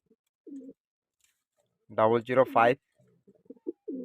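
Racing pigeons cooing nearby in a loft, a few soft throaty coos, one longer burst mid-way, with brief quiet voice sounds around them.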